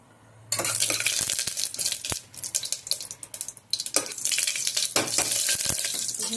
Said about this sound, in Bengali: তেল দিয়ে একটা শুকনো লঙ্কা ফোড়ন দিয়ে দিলাম